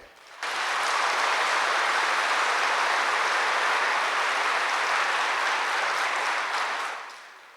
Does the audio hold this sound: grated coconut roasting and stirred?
no